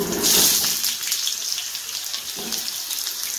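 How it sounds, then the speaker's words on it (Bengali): Red potatoes frying in hot oil in a pan: a steady, hissing sizzle that swells loudly at the start, then settles into a constant crackling fizz with faint clatter. "এখন লাল আলুগুলো আমি ভেজে নিচ্ছি"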